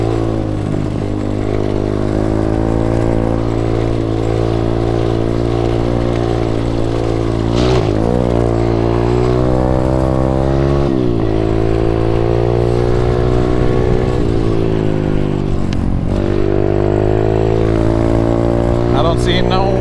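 An SSR125 pit bike engine revs loudly and continuously up close, its pitch rising and dipping through gear changes, with the rider's voice faintly under the engine noise.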